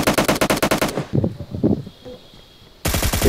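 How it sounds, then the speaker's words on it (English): Gunfire in the mobile game PUBG Mobile: loud, rapid automatic bursts stop briefly, leaving a few scattered thuds and a faint hum, then a fresh burst of fire starts up. "Someone else shooting."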